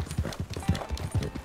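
Horse hooves clip-clop at a steady trotting rhythm in Red Dead Redemption 2, a tired horse's hoofbeats thudding close and clear with no talk over them.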